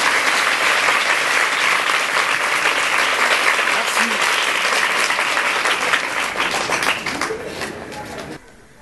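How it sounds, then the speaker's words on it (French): Loud, steady audience applause at a community association gathering, thick continuous clapping for about seven seconds that then thins and stops abruptly. "On applaudit très fort."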